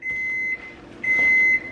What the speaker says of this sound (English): There's the buzzer.